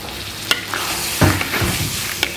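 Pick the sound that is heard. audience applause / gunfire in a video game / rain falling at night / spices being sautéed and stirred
spices being sautéed and stirred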